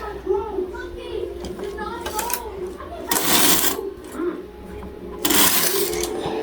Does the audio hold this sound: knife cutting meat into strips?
no